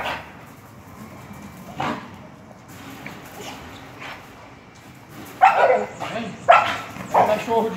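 A muscular, compact one-year-old dog with a strong temperament gives several sharp barks and yips near the end, after a stretch of quieter background sound and voices.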